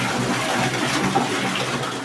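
Steady rush of water pouring inside a pump house, a continuous splashing flow with no pauses or voices.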